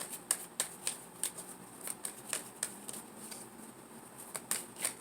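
Tarot cards shuffled in a series of quick, crisp riffling flicks and snaps, steady and moderately close, with no talking.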